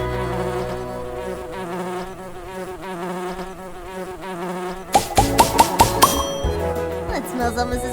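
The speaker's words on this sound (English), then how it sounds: "Way to go, little bee!" A cartoon bee buzzes in a children's pollinator video game over bouncy background music. A voice speaks early on, and the clip ends with a quick run of bright chiming collection sounds.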